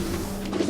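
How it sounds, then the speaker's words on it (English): A large flock of pigeons cooing in a video game, soft low warbling coos layered together in a brief moment. "Very large group of pigeons."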